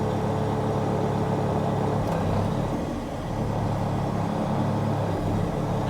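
A Multilift Ultima electric-over-hydraulic jib moves backwards, giving a steady loud motor and hydraulic hum that dips briefly mid-way and then carries on evenly.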